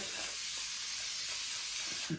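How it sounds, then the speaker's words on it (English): A short, bright hiss of a fine spray mist, steady for a couple of seconds and fairly close, ending with a faint soft touch. "I spray some water"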